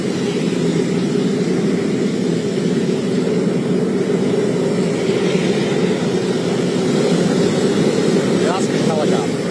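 A presidential helicopter flying: a loud, constant broadband rotor and engine roar that holds steady throughout, with faint voices under it.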